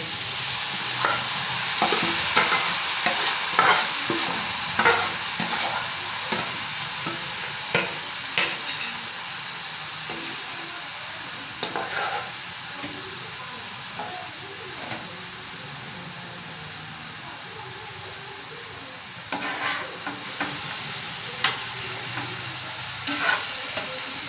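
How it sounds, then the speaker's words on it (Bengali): Grated carrots fry in ghee in a pan for carrot halwa, a steady sizzle and hiss broken by repeated scraping, stirring strokes, close and fairly loud with no voices. "ঘি দিয়ে ভালো করে ভেজে নিয়েছি"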